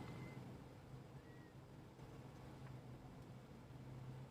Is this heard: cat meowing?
yes